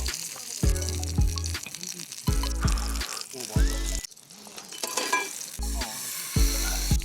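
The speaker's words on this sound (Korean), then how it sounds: "두 개씩 소중히 구워 먹겠습니다." Meat sizzles steadily on a grill at a motorcycle campsite on Biyangdo island, Jeju, a loud close crackle of frying broken by short bursts of talking and pauses.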